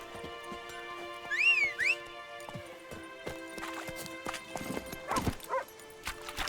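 Horse hooves clip-clop in The Witcher 3 game in the fields of White Orchard, a scattered series of soft hoofbeats with a short whistle-like whinny early on and no talking.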